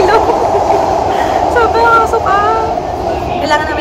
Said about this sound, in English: Trying out the train.